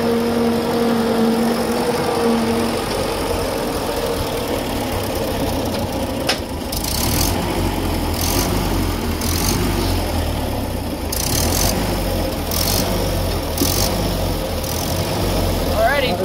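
A 1947 Hughes Doodle Bug loader engine idles steadily at close range on its first start in five years, a constant mechanical drone with some rhythmic clatter. People talk over it throughout.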